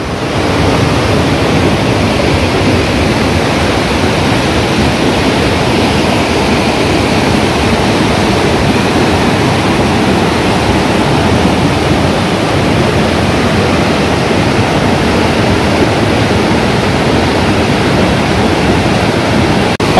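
A river flooding after a cloudburst near Dehradun, India roars loudly and steadily, a dense continuous torrent with no breaks, close and overwhelming.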